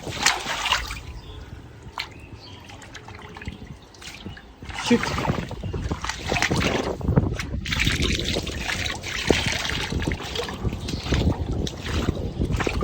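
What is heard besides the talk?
blocked water draining away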